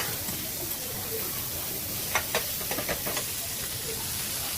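Ginger, capsicum, tomato and cabbage fry in a pan, a steady hiss of sizzling with a few short scraping clicks as they are mixed, close and fairly loud.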